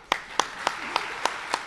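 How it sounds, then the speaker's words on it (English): Evenly spaced slow claps, about six in under two seconds, from the audience at a memorial service for Bob Graham at Miami Lakes United Church of Christ; each clap is crisp and separate, with a quiet room between. "Let's clap for that."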